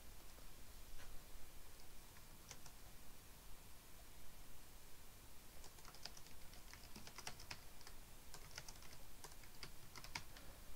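Quiet typing on a computer keyboard while filling in a response form: soft irregular key taps, sparse at first then a denser burst of clicks, faint under steady background hiss with no talking.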